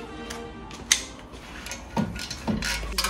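A wrench working the bolts on a car roof rack for a Dacia Logan, giving quick ratcheting clicks and sharp metallic knocks in short bursts at close range.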